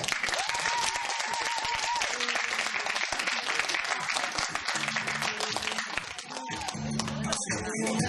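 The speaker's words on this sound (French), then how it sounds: "Je vous demande d'applaudir les E." Audience applause at an evening stage show, a dense wash of clapping from a crowd that continues throughout, with voices and some musical tones mixed in over the later seconds.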